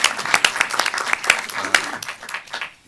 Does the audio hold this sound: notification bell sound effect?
no